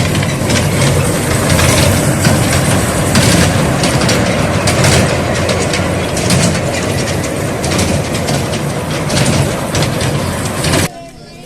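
A mini train for children at a village fair park in Noakhali rumbles and clatters loudly and continuously, with fairground noise and people talking mixed in, before cutting off at the end.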